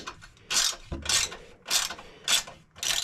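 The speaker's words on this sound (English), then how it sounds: "that was my socket wrench. It does that sometimes" A hand socket wrench ratchets close by during a Warn winch install on a Talon, making five crisp bursts of clicking at a steady, even rhythm with no talk.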